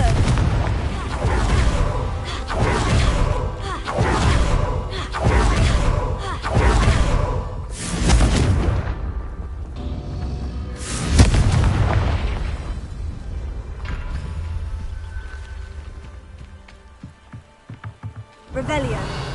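Confringo blasting spells fired in Hogwarts Legacy, a rapid string of loud booming explosions roughly every second, then a final big blast trailing into a rumbling tail and scattered debris.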